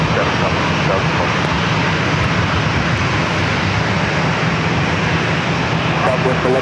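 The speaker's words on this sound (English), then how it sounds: "Southwest 2004, runway 27, go for takeoff." A Southwest airliner on its takeoff roll from runway 27 at San Diego airport sends up a loud, continuous engine roar with broadband rumble, while a radio voice talks over it.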